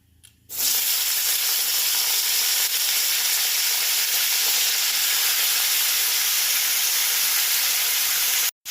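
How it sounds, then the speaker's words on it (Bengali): Onion and capsicum hit hot white oil for chilli prawns, bursting into a loud, steady sizzle that starts abruptly after a quiet moment and holds evenly to the end before cutting off. "এবার আমি সবজিগুলো দিয়ে দেবো সবজি মনে পেঁয়াজ আর ক্যাপসিকাম"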